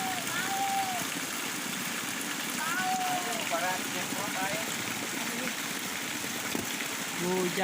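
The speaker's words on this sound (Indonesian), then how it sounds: "Hujan." Rain falls steadily on a countryside rice-field hut, a dense even hiss that fills the whole clip, with scattered bird chirps rising above it.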